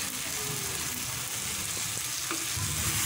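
Shredded fish and tomato fry in a pan as they are mixed, giving a dense continuous sizzle with soft stirring scrapes up close and no one talking.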